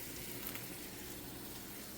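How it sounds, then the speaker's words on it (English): Tenderloin frying in a pan for breakfast gives off a steady, even sizzle that holds without a break for about two seconds, with no talking over it. "Frying some tenderloin for breakfast."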